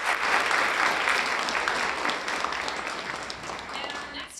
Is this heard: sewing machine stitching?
no